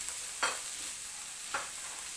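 Ingredients for meatballs stirred in a hot pan, two separate scraping stirs about a second apart over a steady low sizzle, close and fairly quiet.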